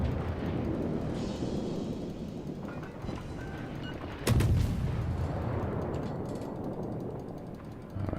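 American tank shells firing in a WWII video game: one sharp, loud cannon blast stands out against a dense, continuous rumble of battle noise.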